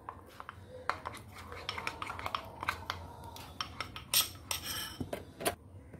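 A spoon clinks and scrapes against a cup while stirring a hot chocolate stirrer mixture, with quick, irregular metallic taps and rattles up close and no talking.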